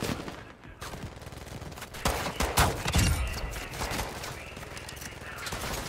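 Enemy bots firing at the player in Call of Duty DMZ: fairly faint, irregular bursts of distant gunfire crackle through the stretch, some shots sharper and nearer toward the middle, with no talking.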